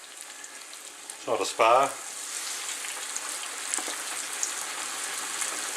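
Chicken pieces fry in hot oil in a pan for Southern-style fried chicken, a soft steady sizzle running throughout with a brief spoken remark early on.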